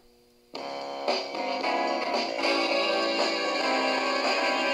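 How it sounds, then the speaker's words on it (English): A cassette plays through an older clock radio, giving a steady, full, humming tone with music-like harmonics that starts abruptly and holds at an even level. "Makes a nice humming sound here."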